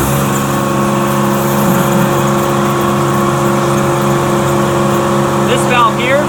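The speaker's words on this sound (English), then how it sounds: "And ramp the engine up to speed." An Air-O-Fan hydroseeder engine with its mixing hopper running holds a steady, loud drone with strong low harmonics for the whole stretch; it is already at speed, with no clear rise, and a brief chirp comes near the end.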